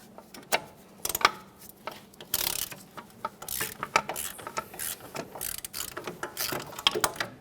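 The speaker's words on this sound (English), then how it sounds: "Make our way to the other mounting nut now." A ratchet removes a mounting nut during a rear wheel bearing replacement on a 2010-2013 Kia Forte Koup, with quick close clicking in irregular bursts and short pauses, no voices.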